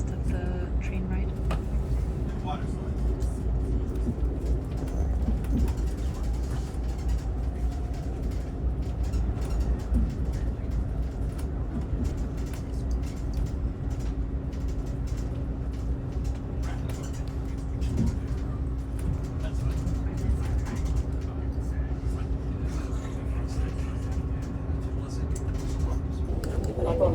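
Steady low rumble and hum inside a moving Amtrak Acela NextGen first class car between New York and Boston, continuous throughout with faint clicks and rattles, no talk.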